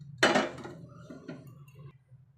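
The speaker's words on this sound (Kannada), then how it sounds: "ಮತ್ತು ಒಂದು ಕುಕ್ಕರ್ ಇಟ್ಕೊಳ್ಳೋಣ" A pressure cooker is set down on a kitchen stove with one sharp metallic clank, followed by a short ringing rattle of metal that fades within about two seconds.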